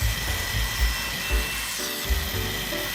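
A bandsaw cuts through a cedar fence plank with a steady, close mechanical whine and hum, while the blade's pitch dips and rises as the wood is fed through.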